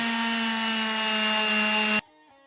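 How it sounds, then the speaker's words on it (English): A sander working 60 grit sandpaper over a wooden guitar body gives a steady, loud droning whine, then cuts off abruptly after about two seconds, leaving near silence. "I'm pretty much done with the 60 grit."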